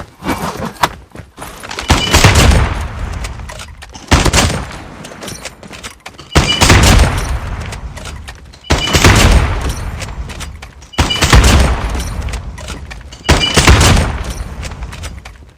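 Hip-fired bursts from the NA45 in Call of Duty Mobile, loud and close, arriving in roughly six separate volleys of rapid booming shots with short gaps between them while bots go down, no talking.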